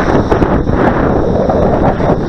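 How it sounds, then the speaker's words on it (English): Strong wind buffets the microphone outdoors during a model aircraft flight, a loud, continuous rumbling roar with gusty fluctuations throughout. "that wind is picking up and it's really just a little bit of buffeting"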